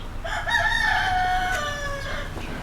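Silkie and Polish chickens sound off in an aviary shared with pheasants, a rooster's clear drawn-out crow rising over soft clucking, close and prominent with no talking.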